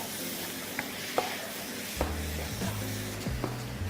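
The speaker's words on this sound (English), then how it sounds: "Whilst my mushrooms are just sauteing" Mushrooms sautéing in a hot pan, a steady close sizzle with occasional light taps and scrapes of a utensil and a low background hum, no speech.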